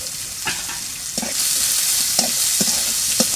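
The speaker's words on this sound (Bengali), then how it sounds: "পেঁয়াজগুলো ভালো করে ভাজবো" Chopped onions fry in hot oil in a pan for a home-cooked tomato bhuna, with a steady close sizzle and a few sharp scrapes and knocks of a spatula stirring at irregular intervals.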